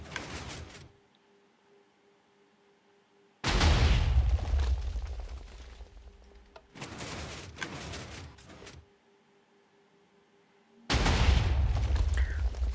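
Minecraft TNT blasts from a duplication array, four loud booming explosions at irregular intervals, each with a sharp crack and rumbling decay, separated by quiet gaps.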